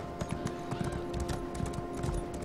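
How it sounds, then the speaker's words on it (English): A level 50 horse's hooves clip-clop in The Elder Scrolls Online, a steady close trotting rhythm of repeated hoof strikes that carries on throughout. "for everyone wondering about my horse, I think I could show you"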